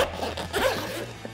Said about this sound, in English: unzip it, and let it flop out.